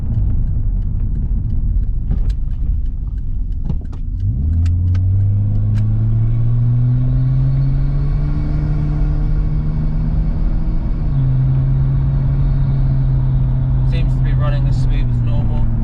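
Nissan Stagea with an RB25 engine driving up a road, its engine note droning and rising steadily through the gears in a continuous close rumble, with no talk over it.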